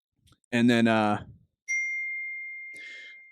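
A phone gives one clear electronic notification ding that rings out and fades, following a short burst of nearby speech and a faint rustle at the end.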